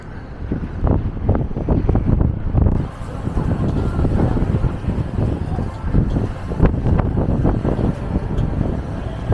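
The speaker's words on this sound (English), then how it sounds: "let's get out of this wind" Strong wind buffets the microphone on Blackpool Central Pier, a loud, rumbling, gusting roar that surges and eases continuously with no voices.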